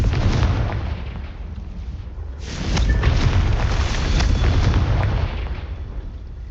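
Confringo fire spell blasts in the Hogwarts Legacy video game, a dense rumbling explosive roar that swells in two broad waves over steady low-end noise, with no talk.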